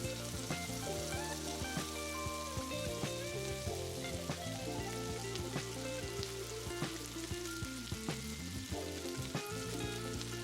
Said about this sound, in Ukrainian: Вкладаємо на розігріту пательню і смажимо з обох боків приблизно по одній хвилині.